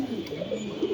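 An ice checker Damascene pigeon coos in soft, low, repeated murmurs, close by, over faint background noise.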